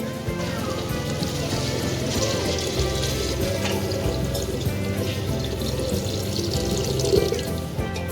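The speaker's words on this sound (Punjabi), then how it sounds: "ਹੁਣ ਅਸੀਂ ਇਹਦੇ ਵਿੱਚ ਪਾਣੀ ਐਡ ਕਰਦੇ ਆ" Water poured into a Punjabi pea curry cooking in a pan, a continuous splashing, bubbling rush that stays even and close for several seconds with no talk.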